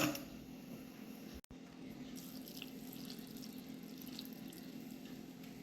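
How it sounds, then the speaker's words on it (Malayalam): Water is poured into a pan of soya chunks in a home kitchen, a faint, steady splashing stream that continues throughout with a brief break early on. "കുറച്ചും കൂടി വെള്ളം ഒഴിക്കട്ടെ"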